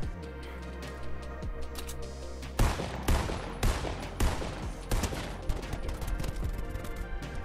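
Rapid assault rifle gunfire in Fortnite, a steady quiet stream of game audio that breaks into repeated loud bursts of shots from about the third second onward, with no talking.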